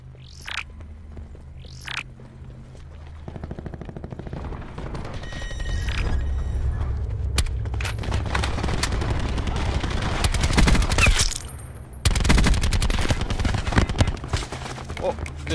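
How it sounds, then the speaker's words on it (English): Video game gunfire in a multiplayer Alcatraz match: bursts of rapid shots and louder volleys build over the second half, mixed with a low throbbing hum and game effects, while players talk throughout. "they're shooting me from the right side too"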